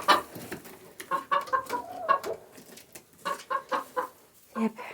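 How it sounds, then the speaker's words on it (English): Mother hens and roosters in a coop cluck in short, bursting calls, several birds overlapping at close range with brief pauses between clusters. "8 plus 2 roosters. So here's our mother hens."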